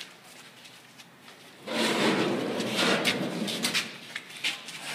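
Aluminium drawer on a Tempest Gecko camper trailer slid open or shut outdoors, a steady scraping rush lasting a few seconds after a quiet start, with small knocks and rattles along the way.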